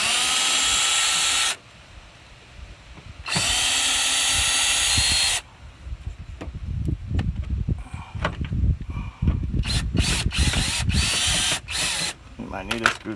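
A power drill spins screws out of the side of a Mustang GT bumper in two steady whining runs, then clicks and clatters as the screws come loose, close and loud, with someone talking in between.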